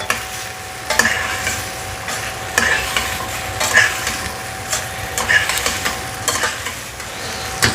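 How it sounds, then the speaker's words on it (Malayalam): Cooked macaroni being stirred in a pan with a spoon, repeated scraping strokes against the metal in an uneven rhythm over a low frying sizzle, close and fairly loud. "അത് കഴിഞ്ഞതിന് ശേഷം നല്ലവണ്ണം ഇളക്കി കൊടുക്കണം."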